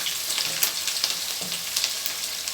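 Onion sizzles in preheated oil for a stew, a steady close crackling fry with small pops throughout.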